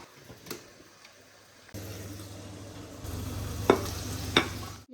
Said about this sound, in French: Il y a tellement de bruit parce qu'il y a tellement de trucs qui cuisent